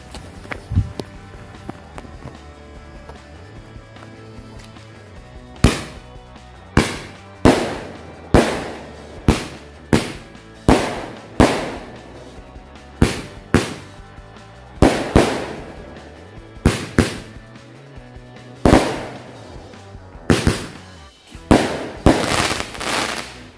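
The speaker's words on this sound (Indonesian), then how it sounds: "yang pertama kita nyalakan 2 buah mercon Roman candle sekaligus" Roman candle fireworks fire in a long series of sharp pops, roughly one every second, loud and close, some shots overlapping near the end.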